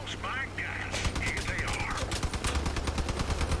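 Rapid bursts of gunfire in the vehicle combat game Crossout, fairly faint and dense over a low engine drone, with voices speaking over the start.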